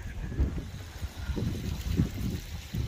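Wind buffets a microphone in gusty, low rumbling waves on a seaside sea-fishing outing with rods and leads, steady throughout the short stretch with no voices.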